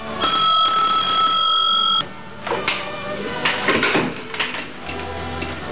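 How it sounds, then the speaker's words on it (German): A telephone rings with a shrill electronic trill for about two seconds, then stops, followed by clattering handling noises and a brief low hum. "Da schrillte plötzlich das Telefon."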